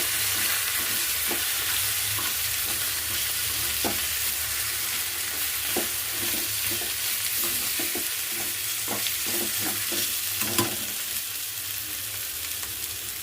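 Curry leaves and chutney hit a hot frying pan, giving a steady close sizzle with repeated scraping stir strokes throughout and no talking.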